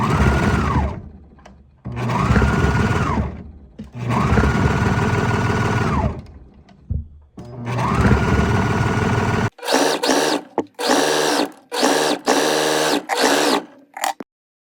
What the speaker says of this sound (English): take this to your sewing machine and you're gonna stitch all the way across